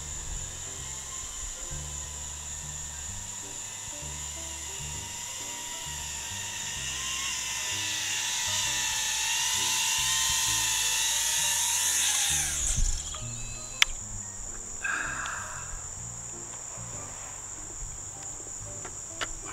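FPV drone carrying a Runcam Pro 4K camera, a high, steady motor whine that swells and holds as it flies close, then suddenly cuts off, leaving quieter whirring and a few sharp clicks.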